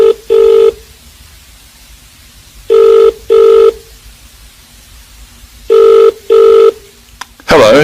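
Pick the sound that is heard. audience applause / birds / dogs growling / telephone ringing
telephone ringing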